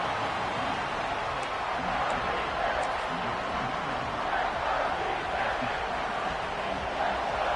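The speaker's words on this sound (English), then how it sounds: "This crowd is trying to inspire this defense to make a big red zone stop" A large stadium crowd in the video game College Football 26 roars steadily throughout, a dense, continuous wash of cheering noise with no clear breaks.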